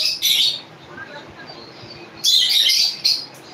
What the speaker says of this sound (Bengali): পাখিগুলো দেখে দেখে মাথা খারাপ করে দিচ্ছে ভাই